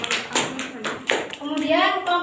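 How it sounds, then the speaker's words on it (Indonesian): Classroom microteaching session with a small group clapping briefly for a student, scattered claps in short bursts followed by a voice speaking nearby. "Beri tepuk tangan untuk Mbak Irwin."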